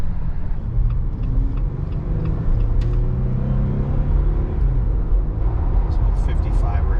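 2021 Jeep Gladiator Willys with the hard top on, cruising at highway speed: a steady, loud road and engine rumble fills the cab throughout, with people talking over it.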